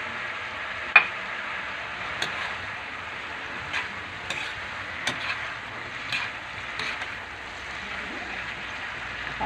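A spoon stirs a sayote omelette mixture seasoned with salt and pepper, giving a soft continuous scraping hiss broken by a few light taps and clicks against the bowl, close and quiet with no talking.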